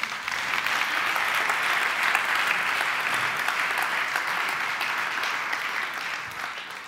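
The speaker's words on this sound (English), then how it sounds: "please give a big round of applause" Enthusiastic audience applause fills the hall at a TEDx event in Munich, a broad, continuous roar of many hands clapping that holds steady for several seconds before gradually tapering off.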